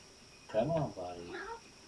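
A cat meows at the door, wanting to be let inside: one drawn-out call up close, then a second, softer one a moment later, with nothing else heard.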